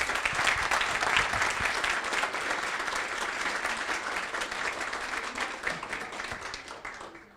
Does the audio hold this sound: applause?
yes